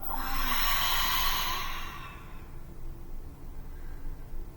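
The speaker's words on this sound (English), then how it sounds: "Take a deep inhale through your nostrils. Hold, exhale out of your mouth." A slow, deep breath during a guided meditation, in through the nostrils and out through the mouth. It is a long airy rush that fades into quiet breathing noise.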